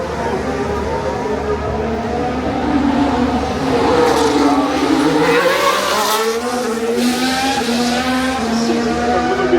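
A Formula 1 car sweeps past on the Singapore Grand Prix street circuit, its loud engine note rising then dropping in pitch as it passes close by, with a brief tyre-scrub edge and no talk.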